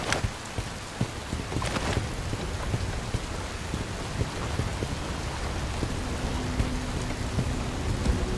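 Steady rain pours in the Bright Memory Infinite video game, a dense continuous hiss with scattered louder drops and a low rumble of thunder underneath, no voices.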